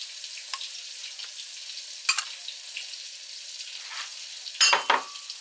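Grilled peppers land in a hot pan with tomatoes for a jerk chicken quesadilla, giving a soft steady sizzle punctuated by sharp clatters and a louder crackling burst near the end.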